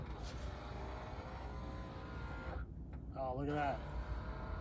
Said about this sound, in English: I'm gonna turn the car on and we'll see if it'll roll up and down